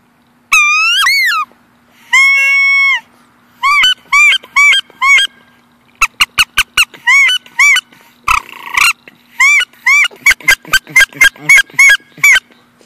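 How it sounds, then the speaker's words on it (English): A Duck Commander wood duck call is blown in a series of loud, rising squealing whistles, first long drawn notes, then quick clipped bursts repeated in rapid runs. "Here's a Duck Commander wood duck call."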